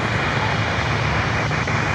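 An airliner departs at Miami airport, a loud, close, continuous roar of jet engines with a broad hiss, steady across the short span.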